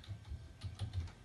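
Brief burst of computer keyboard typing, a few quick soft key clicks in an irregular rhythm, faint and close.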